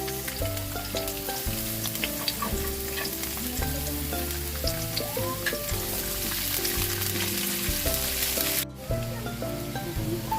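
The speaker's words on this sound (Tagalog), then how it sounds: "Isa tayo ng bawang, sibuyas," Garlic and onion sauté in a hot pan for Ilocano igado. The sizzle is loud, close and continuous and runs under music without speech, then cuts off briefly near the end.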